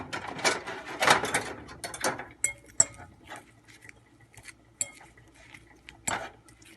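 A spoon stirs shrimp biryani marinade, with coriander and biryani masala, in a bowl, giving irregular clinks, scrapes and taps against the sides, busy at first and then sparser.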